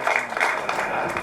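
Applause from the audience at a Tamil movie audio launch event: a steady wash of many hands clapping, loud and close, continuing without pause throughout.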